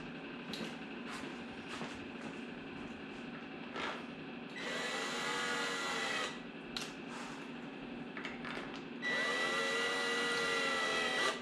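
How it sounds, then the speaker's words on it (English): A power drill whirs in two sustained bursts, close and loud, driving bolts into a small-block Chevy engine block, between clattering metallic handling noises and light knocks. "I'm not pressing down with this drill"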